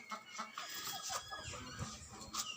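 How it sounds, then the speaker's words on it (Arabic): Backyard chickens on the ground cluck close by in short, overlapping calls, soft but clear against a low farmyard hum. "وشوفوا الفراخ اللي على الارض، عسل ابيض بالصلاة على النبي"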